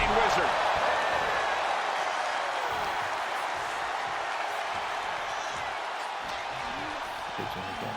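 Roaring arena crowd in the WWE 2K26 wrestling video game, a loud sustained wash of cheering and noise that fades slightly over time, with scattered thuds and a commentary voice underneath.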